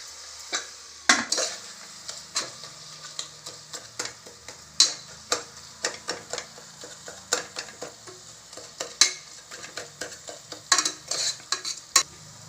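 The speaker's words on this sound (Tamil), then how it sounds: "தேவையான மிளகாய் பொடி எல்லாமே இந்த வெங்காய தக்காளியோடய போட்டு வதக்கிடுவேன்" Onions and tomatoes sauté in a pan with a utensil stirring and scraping in frequent taps and clinks over a soft sizzle, close by, no talking.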